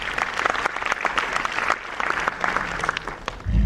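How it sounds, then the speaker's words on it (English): Audience of students applauding as a workshop superintendent is called up at a university orientation, with a lively, uneven burst of clapping that rises and dips, plus a low thump right at the end. "please give a big round of applause"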